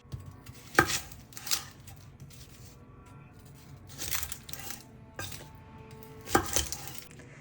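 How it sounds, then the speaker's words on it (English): A knife slices a lemon into thin discs on a cutting board, giving a few sharp, crisp cuts spaced a couple of seconds apart, close and moderately loud, with quieter handling in between and no talking. "I'm basically taking a lemon and I'm just slicing them into thin discs"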